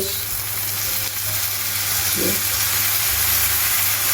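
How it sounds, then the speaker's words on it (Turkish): Raw potatoes frying and being stirred in a hot pan for a potato filling, a loud continuous sizzle with an occasional faint scrape of the utensil. "Güzelce karıştırarak çiğ olan patateslerimizi pişiriyoruz."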